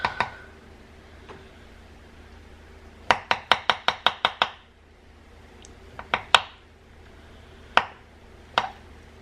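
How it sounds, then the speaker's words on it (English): Knife chopping through cooked crockpot meat on a cutting board to check doneness: a quick run of about eight sharp, close taps, then scattered single chops, with no talk. "I'm just gonna cut and see if this is done."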